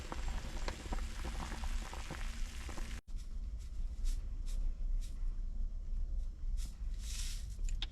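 Chicken soup boils hard in a pot on a stove inside a camper van during a cold snap. A loud, steady bubbling and spitting runs throughout, with a brief break partway and no talk.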